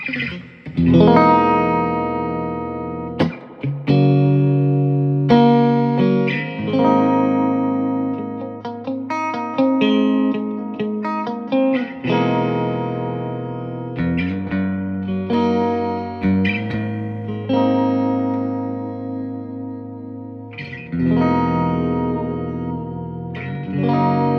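A single-coil Fender Stratocaster plays sustained chords and melodic phrases through a restored 1967 Fender Princeton Reverb amp, with a lush spring reverb tail washing over each note and continuing for more than twenty seconds.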